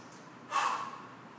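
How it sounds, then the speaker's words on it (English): A single quick, breathy exhale or snort-like breath from an instructor during an exercise class, brief and close, rising sharply then fading into quiet room tone. "and breathe."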